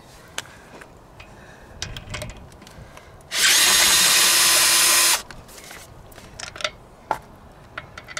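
A power tool, likely an impact wrench, spins wheel nuts off a VW Eos during a brake disc change, one loud sustained burst of about two seconds, with scattered clanks and taps of handling before and after.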